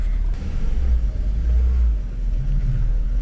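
A BMW E46 wagon with a manual transmission swap drives off, its engine giving a steady low rumble that swells and eases slightly, fairly loud and close with no talking.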